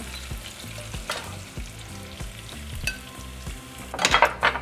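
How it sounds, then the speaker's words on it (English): Bacon, onions and sliced jalapeños fry in oil in a pan with a steady sizzle under a low rhythmic background, a few stirring clinks, and a brighter crackling burst near the end. "now we're just going to cook for another 5 minutes or until our bacon is nice and crispy"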